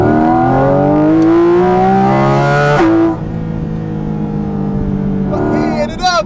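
A Porsche engine revs hard toward 9,000 rpm with a loud, rising tone, then drops sharply and settles to a steady lower drone before climbing again.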